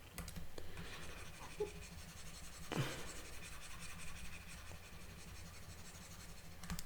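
Marker strokes on a board as numbers are written for an integers lesson: soft, faint scratchy scribbling with a few sharper taps, quiet and close, with no talking.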